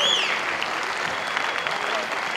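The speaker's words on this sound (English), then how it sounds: "how about a nice round of applause one more time for all of our graduates?" A college graduation audience gives a round of applause for the graduates, a dense, loud, sustained clapping with some crowd noise and a voice briefly heard over it at the start.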